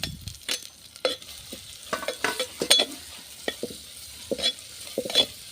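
Tempering spices frying in hot oil before fish goes in, a low sizzle under repeated close spoon scrapes and taps against the pan, uneven and fairly loud, no talking.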